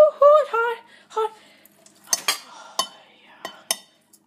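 A metal pot and strainer clink and clatter as they are handled after boiling, with a few sharp knocks and rattles close by, following a short stretch of speech.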